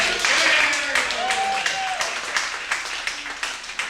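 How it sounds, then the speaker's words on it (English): An improv comedy show audience gives steady, moderately loud applause that gradually thins, while a voice talks over the clapping. "let's give them an applause for that"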